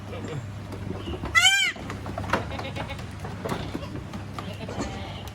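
A single clear goat bleat rises from a farm pen housing goats and sheep, close and loud against background chatter and faint livestock shuffling.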